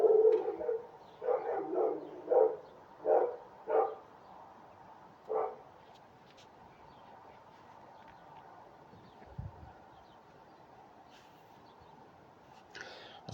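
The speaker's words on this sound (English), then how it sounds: "That's another local dog barking" A Labrador barks in bursts from somewhere nearby, a series of loud woofs in the first six seconds, then a quieter stretch with only faint background noise, heard during a snooker league match.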